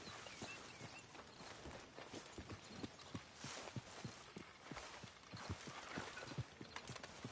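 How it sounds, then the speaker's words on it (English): Horse hooves clip-clop in a PS4 video game, a steady run of walking hoofbeats that stays moderately close and continues for several seconds without speech. "Hey, get that horse out of here."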